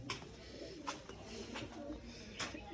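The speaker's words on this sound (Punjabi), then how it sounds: "ਵੱਡੇ ਕਬੂਤਰ ਆਪਾਂ ਛੱਡ ਦਾਂਗੇ" Soft pigeon cooing close by, several low murmuring coos with a few faint flutters, quiet overall.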